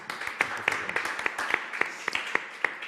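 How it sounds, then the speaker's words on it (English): An audience gives a round of applause at a live event, with distinct claps ringing out at a fairly regular pace over a softer bed of clapping, moderately close and fading in and out. "a round of applause, the last one for you guys"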